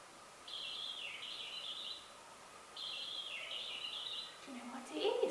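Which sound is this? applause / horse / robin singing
robin singing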